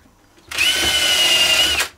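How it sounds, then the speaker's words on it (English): A power drill fitted with a small countersink bit boring into wood, one steady high whine lasting just over a second that starts and stops abruptly, close and loud. "So this is the little countersink bit I'm going to be using."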